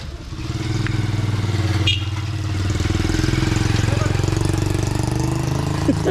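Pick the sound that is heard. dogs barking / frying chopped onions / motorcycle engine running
motorcycle engine running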